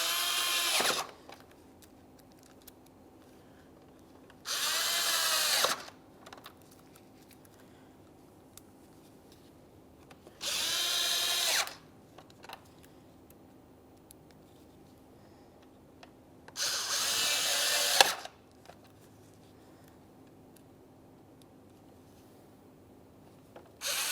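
A power drill runs on the small grille mounting bolts of a 2014-2018 Mazda 3, four separate bursts of roughly a second each with quiet gaps between, close and fairly loud with no talking.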